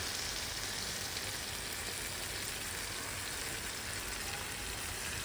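Grape pickle mixture boiling in a pan, an even, faint hiss and bubbling that runs steadily throughout with no talk.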